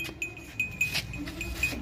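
A two-toothed dumba goat kept for Qurbani gives short, thin bleats at close range, several brief calls over a low, busy background, with no talk.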